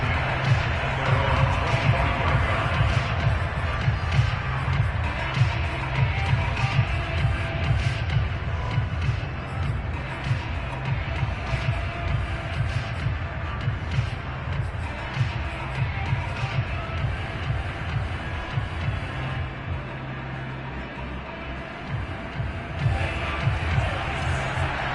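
A home crowd roars in a Madden football video game, a continuous loud wash of cheering and crowd noise running the whole time with a commentator talking over it.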